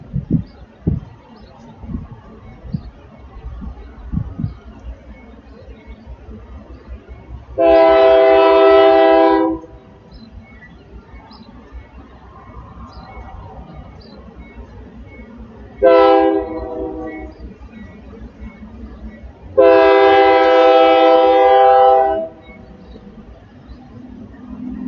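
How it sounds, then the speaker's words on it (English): A Union Pacific train rumbles past in Navasota, Texas, with rhythmic wheel clatter while its horn blasts three times, two long and one short, loud and close. "this is train number 2, first with sound"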